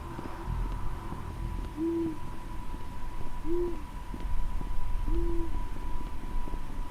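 Pigeon cooing in the video game Rec Room, three separate soft hooting coos evenly spaced over a steady low background hum, with no talking.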